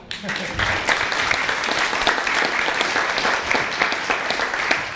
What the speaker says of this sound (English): Another applause, really.